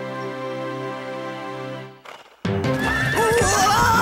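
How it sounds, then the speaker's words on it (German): A horse gives a loud, close neigh lasting about a second and a half, accompanied by hoof clip-clop, following a sustained musical tone and a brief pause, with no speech. "Pferdchen!"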